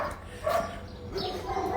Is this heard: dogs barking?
yes